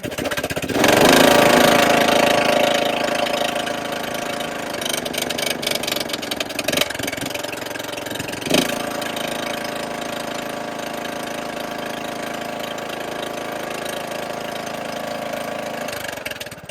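A riding lawnmower engine runs steadily on choke, its pitch and rhythm wavering unevenly as it labors, struggles and surges, with a louder burst near the start and a few knocks.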